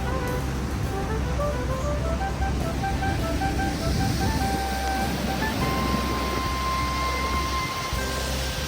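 The Manavgat waterfall near Antalya gives a constant broadband roar of rushing water, loud and steady throughout, with faint tonal sounds from the surroundings mixed in.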